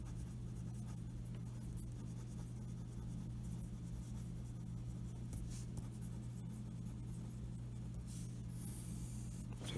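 Chalk or marker scratches steadily across a board during a physics lecture, a faint continuous rubbing with short strokes over low room hum, with no talking.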